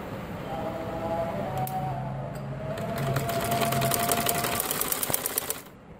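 A sewing machine runs in steady, rapid bursts, its needle chattering as it double-stitches the ankle hem of a tulip salwar, with a brief pause before the stitching picks up again and stops.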